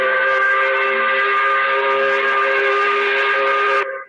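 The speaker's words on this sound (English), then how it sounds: "we recognize it by blowing the 5 o'clock whistle" A loud, steady steam whistle blows the five o'clock whistle continuously with a rich multi-toned chord, then cuts off abruptly near the end.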